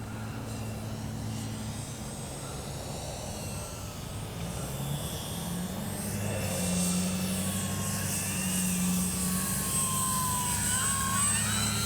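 An X-Fly Spitfire RC model warbird flying a go-around, its electric motor whining steadily with rising and falling pitch as it passes, growing slightly louder toward the end.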